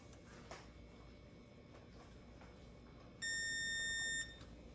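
A Kwikset Halo Touch smart fingerprint deadbolt gives one steady electronic beep lasting about a second, clear but quiet against a soft room hiss.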